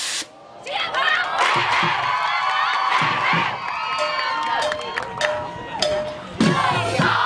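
A cheer squad shouts in unison, loud chanted bursts with rhythmic accents and whoops from a group of young voices, rising and pausing in short phrases.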